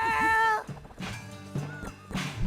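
A cat meows in the Psychonauts video game, one drawn-out, wavering meow up close followed by softer game sounds and a few lighter mewing notes.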